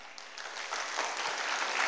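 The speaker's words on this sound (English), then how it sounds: "Let's welcome Professor Wang with the warmest applause" Steady applause from a lecture audience welcoming a professor before a scientific talk on lung cancer, a soft, even wash of many hands that swells slightly toward the end.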